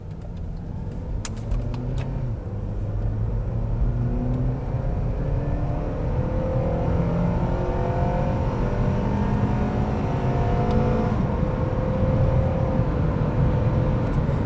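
An Acura TSX Sport Wagon accelerating at wide open throttle in sport mode, its engine note rising steadily and holding a strong, continuous drone with road noise, heard from inside the cabin.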